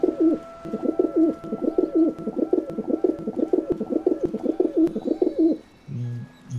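A pigeon in a PS5 video game coos in a long run of rapid, throaty rolling calls, fairly close and steady, followed by a brief different game sound at the end, with no talking.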